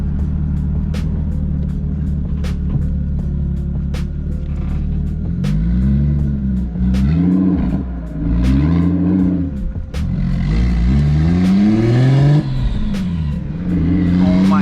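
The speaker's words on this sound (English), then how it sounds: "Hopefully we don't get pulled over because this car is so loud." A loud, lowered turbocharged BMW 335i on the road at night, its engine droning steadily and then revving repeatedly through rising and falling pulls, close and dominant throughout.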